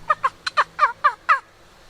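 A wild gobbler turkey sounds off in a rapid, rattling gobble of about seven pulses, loud and fairly close in an outdoor hunting setting, with no voices over it.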